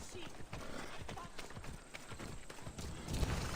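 Horse hooves clip-clop at a steady run in Assassin's Creed Odyssey, close and fairly loud, with a brief whinny and someone talking over the galloping.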